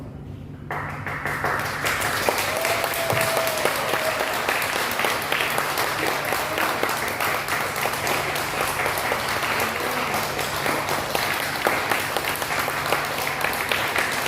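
Sustained applause from a church congregation praising God fills the whole stretch, steady and loud, with dense overlapping claps and a faint murmur of voices underneath.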